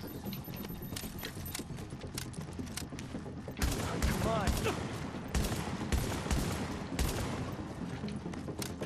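Shotgun blasts in Tom Clancy's The Division, a run of loud, sharp bursts clustered after the first few seconds over a steady bed of game ambience and scattered impacts.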